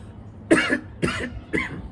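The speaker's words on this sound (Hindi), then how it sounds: "करेंगे तो खांसी आएगा, खांसी आया ऐसे" Three short, breathy coughs spaced about half a second apart, close and fairly loud, with no talking around them.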